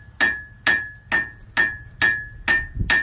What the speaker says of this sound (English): Hammer it flat the other way.